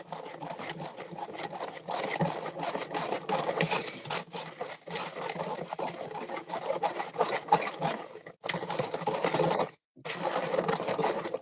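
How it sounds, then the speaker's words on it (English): A mixture whisked in a bowl in a home kitchen: rapid, close rhythmic clattering and scraping of a whisk, continuous with a couple of brief pauses, no talk. "And I just whisk it till it gets thickens."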